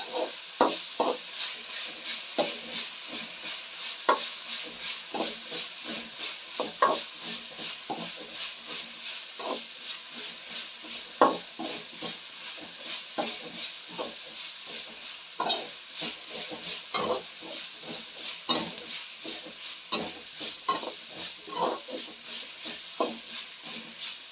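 Onions fry with ginger garlic paste for mung bean khichdi, a continuous bright sizzle broken by frequent spoon scrapes and taps against the pan throughout.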